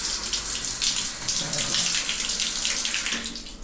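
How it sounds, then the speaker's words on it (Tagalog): Tap water runs into a bathroom in a house under renovation, a steady hissing splash that stays close and continuous for the whole stretch, with no talking. "Nagana na yung tubig dito sa banyo."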